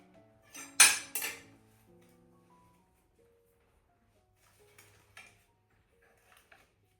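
Ceramic plate and metal cutlery clink as a slice of lemon bundt cake is cut and served, a cluster of sharp close taps early on, then a few faint scattered clinks in a quiet room.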